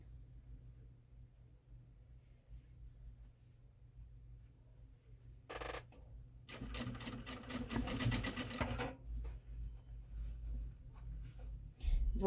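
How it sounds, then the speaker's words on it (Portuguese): Sewing machine joining fabric pieces for a snake-shaped fabric door stop, a quiet low hum at first, then a brief burst and a longer rapid, rhythmic stitching run of a few seconds, followed by softer handling sounds. "Eu vou vir passando um pezinho de máquina e vou prender uma parte na outra"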